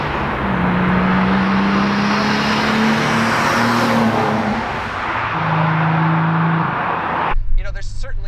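A Nissan 300ZX Z32 Turbo drives along with a steady, fairly quiet engine drone and road noise underneath, while a person talks over it.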